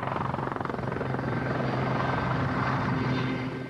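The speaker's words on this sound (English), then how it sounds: "the helicopter continued to bring other specialists to the islands." A helicopter flies steadily overhead, its rotor producing a continuous thudding chop over a broad engine roar, loud and sustained throughout.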